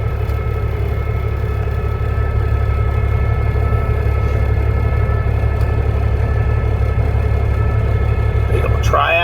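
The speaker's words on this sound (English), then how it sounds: "Got some Peterbilt action over here." Peterbilt tractor trailer and tri-axle gravel haulers rumble steadily nearby, a loud continuous heavy diesel drone throughout, with a brief higher squeal near the end.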